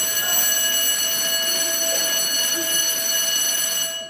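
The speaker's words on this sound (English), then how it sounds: "that bell keeps you on your toes" An electric school bell at an elementary school in Brooklyn, New York rings loud and continuous with a steady buzzing tone, cutting off at the end.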